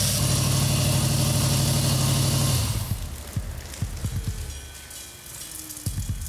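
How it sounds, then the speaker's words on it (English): A steady, loud drone from an idling 1971 Cuda 340 engine runs for a few seconds, then cuts out, leaving scattered knocks and clicks against a quieter background. "Engine runs good."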